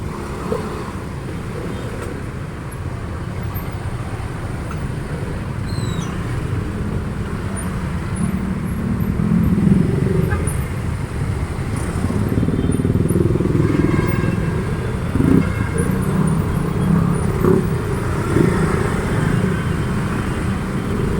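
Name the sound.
heavy traffic with motorcycles and cars on Osmeña Highway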